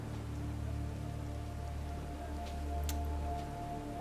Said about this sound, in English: Yeah, all the fucking rain.